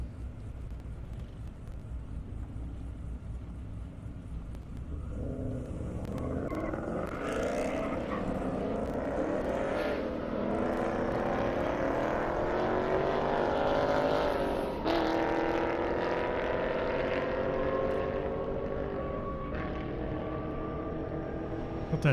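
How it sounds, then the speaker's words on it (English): Loud engines at an airstrip drag race as a Corvette and a Mustang stage on the launch pad, a steady roar swelling into a revving, rising howl that holds strong throughout, with a brief sharp burst midway. "Corvette on the launch pad."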